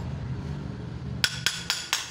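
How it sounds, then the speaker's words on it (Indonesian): A hammer strikes motorcycle clutch bell parts four times in quick succession, sharp metallic clanks ringing over a low background hum, close and distinct. "kita tinggal palu-palu kanan kiri sampai terlepas seperti ini ya"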